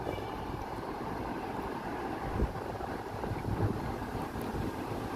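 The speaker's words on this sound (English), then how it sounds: "Oh, it's a little windy here." Wind buffets a microphone outdoors on a New York City street, a steady low rumble with a couple of stronger gusts, no voices.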